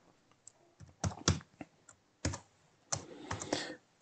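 Keys clack on a computer keyboard during a Python programming lesson, quiet keystrokes arriving in short irregular bursts and single taps, close by with no talking.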